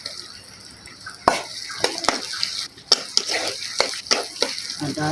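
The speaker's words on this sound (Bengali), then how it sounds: "তেল দিয়ে দিলাম, আর এই যে পেঁয়াজ রসুনটা দিয়ে দিলাম" Chopped onion and garlic hit hot oil in a pan and sizzle under sharp clanks of a spoon stirring against the metal, with intermittent scraping and clatter close by.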